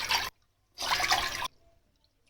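Three cups of water for sugar syrup are poured in two bursts of splashing, separated by silence, with the start of a third burst at the end.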